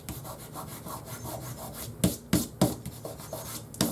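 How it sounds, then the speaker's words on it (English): Rubbing adhesive residue off a paper card panel for a gatefold bird card: a steady dry scuffing runs throughout, with several sharper, louder rubbing strokes in the second half, close and alone with no talk. "Make sure there's no adhesive on this side, which in this case I do have a little bit. Just rub that off."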